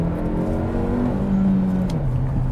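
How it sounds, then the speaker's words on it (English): A 2021 Hyundai Elantra N-Line engine with manual gearbox holds a steady high drone after an upshift, lingering and only slowly dropping in pitch, loud and close, with no one talking. "when you do want to upshift, it's got some pretty serious rev hang"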